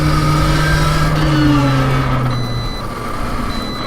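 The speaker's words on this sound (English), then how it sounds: "The phone's beeping." A phone emits regular electronic beeps alongside the whine of a small electric vehicle built like a mini Porsche GT3 RS, the motor tone falling as it slows; no one speaks.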